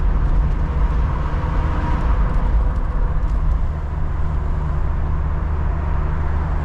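Steady low engine drone and road rumble from a 1995 BMW 325i Cabriolet with an inline-six and five-speed manual, heard from inside while cruising, loud and continuous with no talking.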